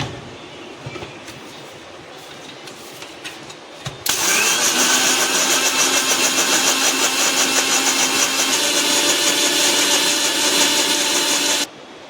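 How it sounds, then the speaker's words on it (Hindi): A loud, steady high-pitched whirring mixer grinder starts abruptly after a few seconds of quiet clatter, blending cold coffee with water and milk, runs continuously about a minute, then cuts off sharply near the end. "ये देखिए 1 मिनट तक चलाया है मिक्सर।"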